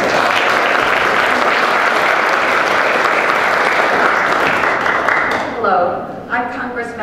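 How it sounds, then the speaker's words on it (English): A crowd claps loudly for a congresswoman as she is welcomed onstage, dense applause that fades out near the end as a voice begins speaking. "Please give her a round of applause"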